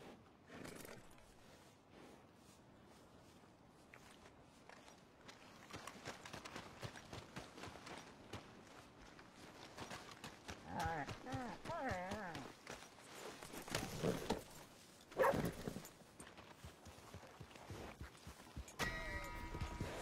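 Horse hooves clop along in Red Dead Redemption 2, a steady run of soft hoofbeats in the game world, mixed with other game sounds and someone talking over them throughout.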